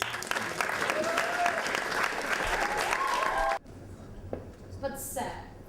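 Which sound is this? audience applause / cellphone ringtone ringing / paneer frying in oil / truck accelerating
audience applause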